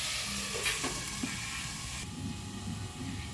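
Salted mixed vegetables frying in a covered pan for restaurant-style mix veg, a muted, steady sizzle with a few clinks early on, close and fairly soft, with no speech.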